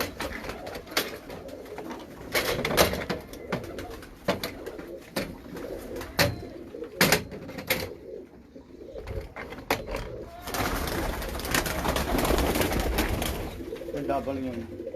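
Sialkoti pigeons coo repeatedly up close, their soft rolling calls mixed with scattered clatters and someone talking over the flock.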